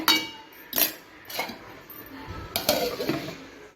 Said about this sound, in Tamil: இப்போங்க மூடியை ஓப்பன் பண்ணி பார்க்கலாங்க